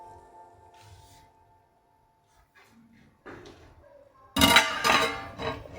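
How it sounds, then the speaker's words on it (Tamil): A metal lid clanks down onto a pot of crab masala, a sharp bright clatter with a brief rattle near the end, following a quiet stretch of low kitchen hum. "இப்போ இதை நம்ம கொஞ்ச நேரம் மூடி வைக்கணும்."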